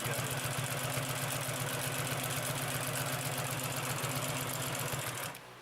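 A Consew P2339 double needle walking foot sewing machine stitching at a steady pace, a close rapid mechanical thumping under a motor hum that stops abruptly at the end.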